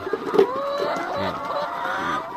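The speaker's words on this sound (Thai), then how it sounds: "มาดูครับ นี่ไก่แม่ไก่" Laying hens cluck and murmur close by in a short burst of overlapping, throaty calls.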